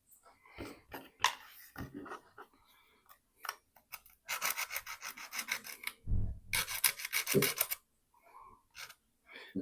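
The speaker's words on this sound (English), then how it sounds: "get all these sanded down" Plastic model kit parts being sanded, heard as repeated close, scratchy rasping strokes in steady back-and-forth bursts, growing longer and louder toward the middle and end, with light handling clicks between them.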